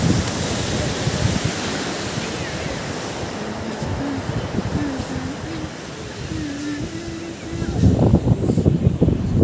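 Sea waves roll in at Mypada sea beach as a loud, continuous surf roar with wind buffeting the microphone, the wash swelling louder near the end while someone speaks faintly underneath.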